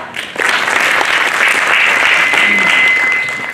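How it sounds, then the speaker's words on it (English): A crowd applauds steadily for a few seconds, dense clapping that swells in quickly and fades slightly at the end, with no talking. "Can all of us clap for her?"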